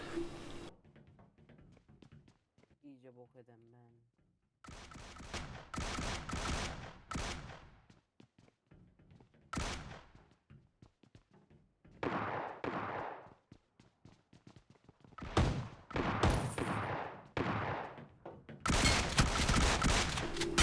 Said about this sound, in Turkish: Adamları vuruyorum vuruyorum.